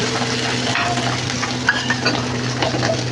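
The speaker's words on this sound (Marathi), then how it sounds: "आता हे जरा उलटण्याने आपण प्रेस करून असं दाबून घेऊया" An uttapam made from leftover idli batter fries in a pan and is pressed down with a spatula, giving a steady close sizzle with a few soft scraping taps on the pan.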